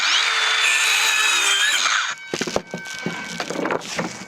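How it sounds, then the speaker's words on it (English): A little handsaw cuts a fiber cement siding batten on a pole barn, a dense steady rasping that runs for about two seconds, then breaks into short scattered strokes and scrapes close by. "use my little handsaw"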